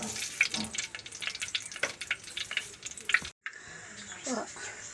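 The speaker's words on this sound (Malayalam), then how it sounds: "ഉലുകയൊക്കെ പൊട്ടിക്കഴിഞ്ഞു" Fenugreek seeds crackle and pop in hot oil in a pan on the stove, a busy run of sharp sizzling snaps that breaks off for a moment, then resumes more softly.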